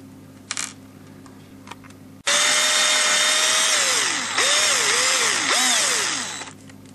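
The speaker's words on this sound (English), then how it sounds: "so I'll need to drill that hole out." Power drill boring out a screw hole in a 3D-printed part for an M3 screw, a loud continuous whine with pitch dips as the bit bites, after a few quiet taps, no talk.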